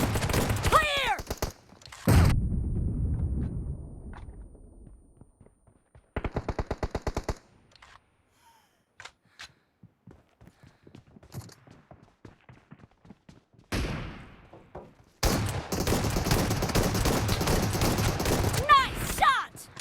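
Shotgun fire in a video game, loud booming blasts and bursts separated by quiet gaps with faint ticking and scattered smaller shots, then a long dense barrage of heavy gunfire toward the end.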